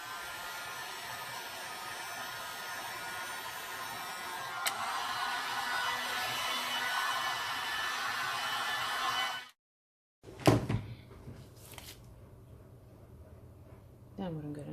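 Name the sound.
heat gun blowing on white epoxy paste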